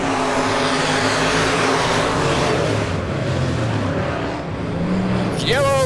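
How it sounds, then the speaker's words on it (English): Super stock race cars roar around Lebanon Midway Speedway in a heat race, a dense continuous engine drone with a car passing close near the end, loud, with an announcer talking over it. "As here we go again down into 3 and 4. 4 cars battling for the race lead."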